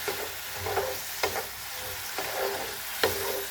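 Vermicelli stirred in a pan with a little water: a steady sizzle under four distinct scraping strokes of a spoon, spaced roughly a second apart, close and moderately loud.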